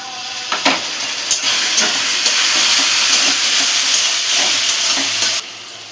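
Tomatoes tipped into onions already fried red in hot oil with green chillies and whole cumin, setting off a loud, steady sizzle that swells and holds for several seconds, with a few scraping knocks at the start, then cuts off abruptly.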